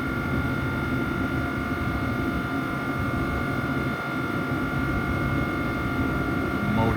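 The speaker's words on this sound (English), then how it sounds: "now we're going to get treated to the symphony that is this ACS 64 starting up" An ACS-64 electric locomotive starting up at a station, a loud steady drone with a sustained tonal whine from its motors, close by and continuous, with some voices mixed in.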